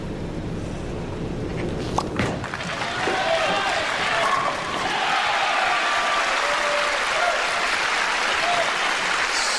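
Crowd applause at a 1996 PBA National Championship bowling stepladder final in an arena, a broad steady wash of clapping lasting throughout, with commentators talking over it.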